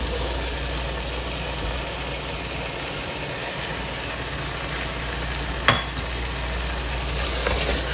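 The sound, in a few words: white chickpeas added and sizzling in frying pan for biryani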